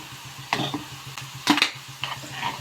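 A spoon stirring masala into lightly browned onions in a cooking pan, with a few separate scraping strokes against the metal over a low, steady background hum.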